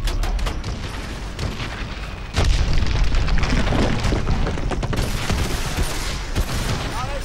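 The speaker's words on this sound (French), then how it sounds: "Approchez-vous et utilisez vos canons." Heavy cannon fire and explosions from Call of Duty: Advanced Warfare boom repeatedly, loud and close, over dense rumbling battle noise.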